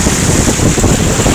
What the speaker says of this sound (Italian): Questa è la scia.